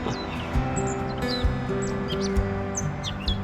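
Birds chirp and tweet in the morning near a dense forest by a small-town yard in Connecticut, several short calls scattered over a steady low background hum, fairly quiet and without talk.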